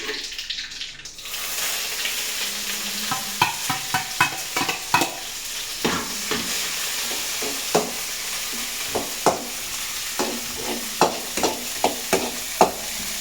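Curry leaves sizzle and crackle while tempering in hot oil, with a steady frying hiss broken by repeated sharp pops and stirring scrapes close by throughout.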